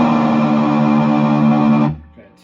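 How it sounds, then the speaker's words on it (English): Electric guitar through a Peavey 6505 MH amplifier on its lead channel, a loud, heavily distorted sustained chord ringing for almost two seconds before being cut off abruptly into near silence. "this amp is just screaming to distort more, which is why I'm going to bring us over to the lead"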